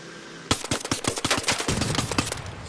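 Rapid automatic gunfire in the video game ARC Raiders, a loud burst of closely spaced shots starting abruptly and rattling on steadily for about two seconds, heard alone without talk.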